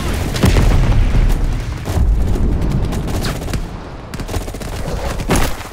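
Loud, dense gunfire and booming blasts from a Vietnam firefight in Call of Duty Black Ops, crash survivors fighting off a Viet Cong attack in the Central Highlands; overlapping shots and explosions roll on without pause.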